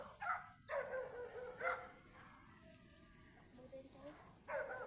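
A dog barks in short bursts, several distant yips and barks spaced through the clip, fairly faint against outdoor background with voices at times.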